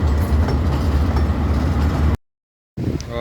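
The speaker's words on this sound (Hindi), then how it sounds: "हज़ारा एक्सप्रेस इस टाइम आ रही है।" The 12 Down Hazara Express pulling into Rawalpindi railway station in rainy weather, a loud low rumble of the train for about two seconds, then a brief cutout before the rumble resumes.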